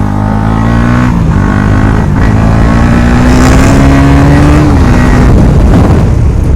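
A KTM motorcycle engine with its exhaust removed roars loud and close, revving up and easing back in a raw, unmuffled blast throughout.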